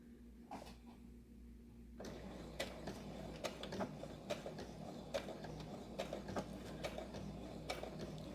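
A sewing machine stitches a cross stitch bookmark with a regular foot: after a quiet start, a soft steady mechanical whir runs on with a string of faint ticks and clicks.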